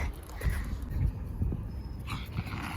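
A large dog whimpers and pants in short bursts outdoors, close and moderately loud, with faint rustling between the sounds and no talk.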